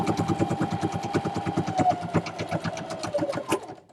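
A sewing machine runs a fast, even stitch through fabric for a microwavable bowl cozy. The close mechanical chatter holds steady, then slows and stops at the end, with no talking.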